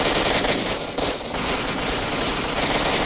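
Rapid automatic gunfire and shotgun blasts in the S.T.A.L.K.E.R. Enhanced Edition shooter, a dense continuous barrage of loud shots with a harsh, noisy texture throughout, no voices.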